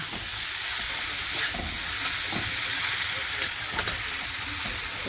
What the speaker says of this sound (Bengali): সবজিটা একটু ভাজা হোক, তারপরে দেবো।